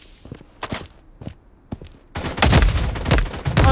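Gunfire in the Blood Strike video game: a few scattered sharp shots and footstep-like thumps, then a dense, loud burst of rapid shots and impacts near the end.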